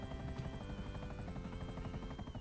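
A steady helicopter rotor thrum with a whining engine tone drones continuously at moderate level, game audio from GTA 5.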